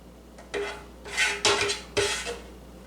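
A spoon scrapes and clinks against a skillet and casserole dish while an onion and pepper mixture is transferred, making four separate metallic scoops that sound close and crisp against a quiet background.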